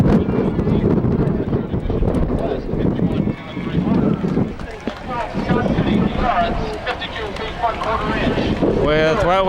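Gusting wind of 35 to 40 miles an hour roars across the microphone at an outdoor high school state track meet, a continuous loud buffeting that swells and dips beneath ongoing commentary.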